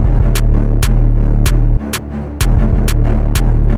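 A loud hip-hop beat driven by a thick, distorted 808 bass, with steady snare or clap hits on a regular rhythm and a brief bass dropout midway.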